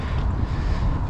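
Steady low wind rumble buffets the microphone throughout, a dense outdoor roar with no voices.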